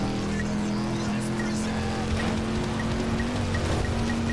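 A car accelerating in the FlatOut 4 racing game, its steady engine drone running loud and continuous with scraping and skidding noises over the top, while someone talks excitedly in German.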